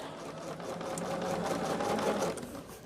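A sewing machine runs steadily while stitching through a quilt, giving a continuous, close, even mechanical whir with a rapid needle rhythm and no pauses.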